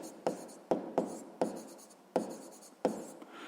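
Pen or pencil strokes on paper during a grade 6 math exercise, six crisp scratchy bursts in an uneven rhythm, close and fairly quiet, with no talking.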